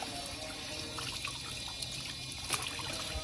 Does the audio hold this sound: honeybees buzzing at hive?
no